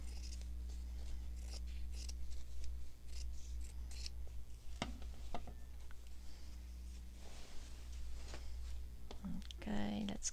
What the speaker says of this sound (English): let's cut this label out